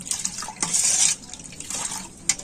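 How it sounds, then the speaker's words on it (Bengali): Spoon stirring watermelon juice with salt and sugar in a cup, close clinking and scraping strokes with a liquid swish, a louder burst of stirring near the middle and brief clinks toward the end, no talking. "লবণ আর চিনি দিয়ে এই জুসটা খুব ভালো করে আমি গুলে নেব"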